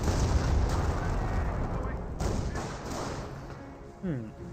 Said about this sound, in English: That artillery barrage could have been from a 25-pounder barrage from his teammate